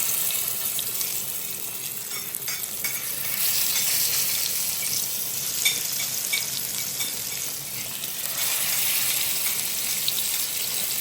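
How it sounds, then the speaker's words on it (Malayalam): Pomfret fish pieces shallow frying in coconut oil, a steady close sizzle and crackle running throughout with brief stirring or handling noises and no talk. "നമുക്ക് ഫിഷ് ഓരോന്നായിട്ട് നമ്മൾ എണ്ണയിലേക്ക് ഇട്ട് കൊടുക്കാം"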